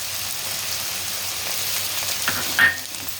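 Masala powder of coriander, dried coconut, garlic and chilli being fried and stirred into ivy gourd (dondakaya) pieces in a pan, a steady soft sizzle with a brief scrape of the spoon near the end.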